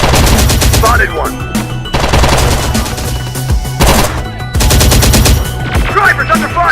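Rapid automatic gunfire bursts from the Terminator Dark Fate Defiance video game, loud and sustained in several long volleys with brief pauses between them, with game voices faintly underneath.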